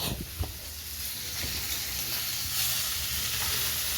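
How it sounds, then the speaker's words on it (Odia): Fish frying in a pan at home, a steady close hiss and sizzle of hot oil with a few faint stirring clicks and no speech. "ବର୍ତ୍ତମାନ ବାପା ମାଛ ଭାଜିବାକୁ ଲାଗିଲେଣି ସକାଳ 9:30ରେ ମାଛ ଭଜା ହେଲାଣି"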